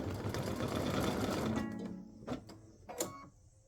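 An embroidery machine stitching a Mrs Claus design, a rapid mechanical whirring chatter up close that stops partway, followed by a couple of short clicks and thumps.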